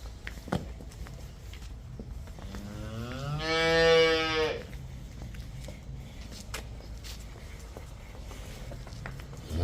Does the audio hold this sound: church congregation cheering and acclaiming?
no